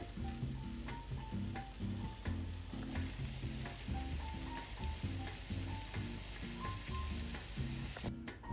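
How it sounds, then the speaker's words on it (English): Udon noodles and spam are tossed and stir-fried in a thickened sauce, giving a soft, continuous sizzle with light stirring, faint and mostly buried under steady background music, with no voices. "once the sauce thickened and everything was cooked down, I tossed in the udon and the spam"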